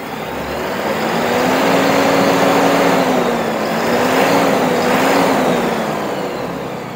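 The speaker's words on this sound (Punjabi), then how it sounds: "ਆਵਾਜ਼ ਤੁਸੀਂ ਸੁਣ ਸਕਦੇ ਹੋ ਟਰੈਕਟਰ ਦੀ।" The diesel engine of a new export-model Deutz-Fahr 4080E tractor runs close by in a loud, steady drone, its pitch wavering and swelling as the throttle rises and eases off.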